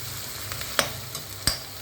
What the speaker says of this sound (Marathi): आणि कांदा लालसर परतून घेऊ